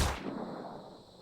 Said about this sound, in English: Nice shot, sniper.